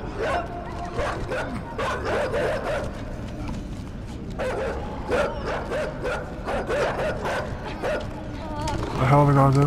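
Video game dogs in INSIDE on PS4 barking, yipping and whimpering in rapid clustered bursts, close and loud, with a brief pause midway and a tonal game sound at the end.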